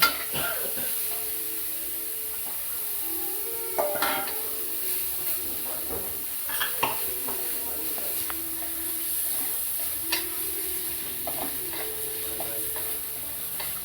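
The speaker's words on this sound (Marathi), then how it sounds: "नंतर आपण थोडस वाटीभर पनीर घेतले ते परतून घेऊ" Paneer sautéed in a pan for aloo paneer paratha, with a steady soft sizzle and repeated scraping stirs of a spatula against the pan, close and moderately loud, under faint background talk.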